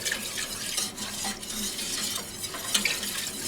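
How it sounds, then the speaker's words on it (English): Gumbo being whisked in a pot of water near a simmer, a steady close swishing and scraping with faint bubbling, no talking over it. "We're just whisking it together."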